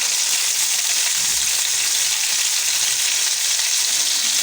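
Chicken malai tikka pieces frying in a hot pan, a steady loud sizzle that holds evenly throughout, with a soft stir or flip thump near the start.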